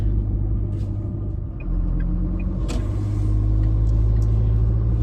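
An SUV cruises along a road on a drive, giving a steady, loud low rumble of engine and tyres with a brief dip in the drone partway through, and no talking.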